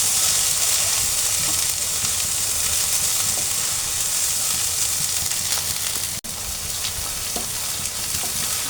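Masala spice paste with turmeric sizzles steadily in hot oil for a dried loitta fish curry with potatoes, a dense continuous frying hiss filling the whole stretch, with a brief dropout near the end.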